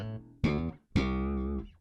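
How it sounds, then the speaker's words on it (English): Two punchy slapped electric bass notes from a disco bass line, each with a sharp attack and a bright, ringing sustain, played alone and up close. "listen out for this cheeky piece of slap which is often missed in it"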